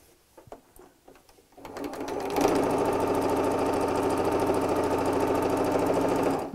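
A sewing machine stitches gingham fabric for a tea cosy. After a quiet moment of small handling noises, the motor starts up and runs in a steady, loud, rapid needle chatter.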